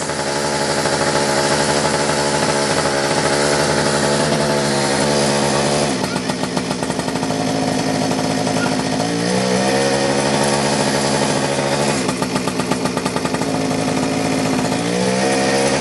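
An abandoned mini motorbike's small engine runs continuously, loud and near with a buzzy, chainsaw-like drone, faltering and dipping in pitch several times as a failing kill switch half cuts it before it picks back up.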